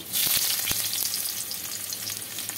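Two chopped onions sizzle in hot oil in a wok, giving a steady, close, loud frying hiss with a few quick stirring clicks near the start and no talk.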